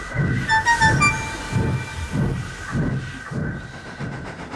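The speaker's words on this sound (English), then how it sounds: "The waiting passengers cheered and waved as Gordon drew into the platform." A toy steam engine train rolls into a station platform with a rhythmic chuffing pulse, a rumbling undertone and a brief whistle near the start, fairly loud and close.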